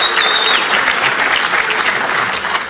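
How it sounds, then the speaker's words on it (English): Conference audience at a Perl programming talk applauding, sustained loud clapping that runs evenly throughout, with a brief whistle-like tone at the very start. "Let's all applaud Leon."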